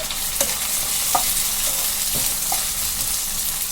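Tomatoes fry in ginger-garlic paste for a potato curry, a dense steady sizzle close by, with a few soft spatters popping through it.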